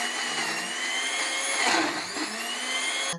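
A blender mixing thick milk runs steadily with a high whirring motor, its pitch shifting briefly midway before cutting off abruptly at the end.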